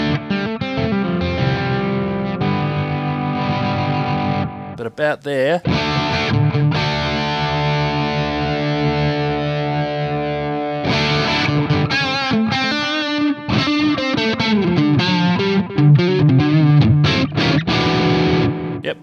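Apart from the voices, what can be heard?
guitar through Sonicake Black Hammer multi-FX distortion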